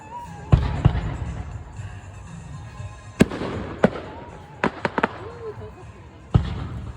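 Fourth of July fireworks over Harrison, Idaho burst as scattered sharp booms and crackles at a distance, several thumps spaced irregularly, with people talking nearby throughout.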